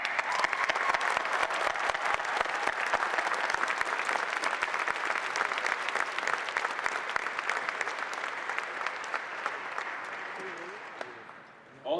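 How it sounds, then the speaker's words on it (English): Sustained applause from a large audience at a college honors convocation ceremony, dense steady clapping for about eleven seconds that fades out at the end. "please join me in a round of applause for the counselors, the advisors, the professional assistants, and the college aides and faculty"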